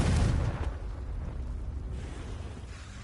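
A Confringo blasting spell goes off in Hogwarts Legacy: a loud, close burst at the very start that fades into a steady low rumble for a few seconds.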